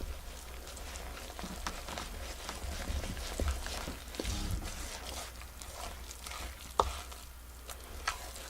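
Zucchini bread batter being stirred in a bowl in a boat galley, a soft, close scraping and wet slapping that continues unevenly with a few sharper knocks, fairly quiet and without talk.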